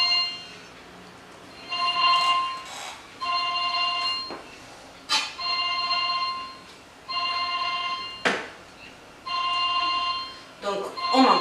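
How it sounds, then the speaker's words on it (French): A telephone ringing in a room in repeated electronic bursts of about a second each, with short pauses between them, moderately loud and steady. Someone speaks briefly between the rings. "Désolée pour le téléphone."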